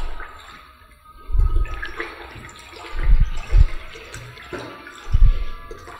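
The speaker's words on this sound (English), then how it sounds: "then you stir." A liquid disinfectant mixture being stirred in a container, with several loud sloshing swirls of liquid separated by quieter gaps.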